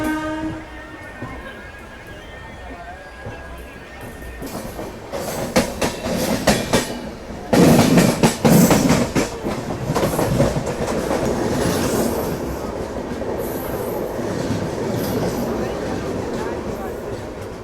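Crowded passenger train between Mumbai and Ahmedabad rolling along, a steady rumble that swells into loud rhythmic clickety-clack and rattling from about the middle onward, with a horn-like tone early on.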